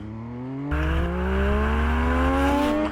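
MV Agusta Dragster 800RR with an 800cc triple engine accelerating hard in first gear, a loud close snarling rise in pitch that kicks in abruptly after a quieter idle and climbs steadily without pause.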